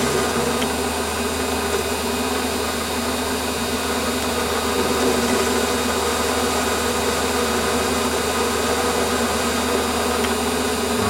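A Warco WM180 lathe skims a bolt head true to its shaft, giving a steady, continuous machine hum and whir with a faint cutting hiss, running evenly throughout with no talk.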